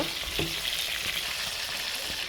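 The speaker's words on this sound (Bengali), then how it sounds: "মাছটা উল্টাই নিচ্ছি মানে এই ভালোভাবে ভেজে নেব" Fish sizzles steadily as it fries in a pan while a fish-and-radish curry is being made, with a dense, continuous crackle and a few soft scrapes of turning. No one speaks.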